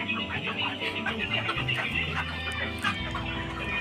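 Broiler chickens on a poultry farm cluck and chatter in a dense, continuous flock chorus, close and loud, with someone talking over them.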